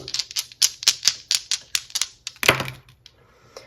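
Dice rolled during a tarot and astrology reading, a quick rattling run of sharp clicks and clacks that tumble and then settle, close and crisp, with no talk over them.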